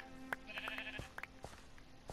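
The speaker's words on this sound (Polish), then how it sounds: "I tak, jest tu owca." A sheep in Minecraft on PS4 gives a few short, quiet bleats, alone and without talk.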